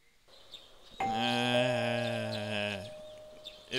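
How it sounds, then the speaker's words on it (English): A doorbell chime rings once in the Persona 4 video game, a single sustained, bright, harmonic tone lasting nearly two seconds against a quiet background. "You hear the doorbell ringing."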